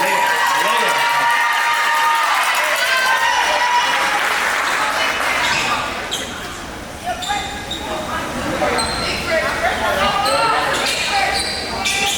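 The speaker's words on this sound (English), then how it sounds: "Let's give them a round of applause for such a great and valiant effort." A crowd applauds and cheers in a gym after a girls' high school basketball tournament game, honoring the Liberty High School team; loud sustained clapping with scattered whoops and echoing court noise, easing briefly midway before swelling again.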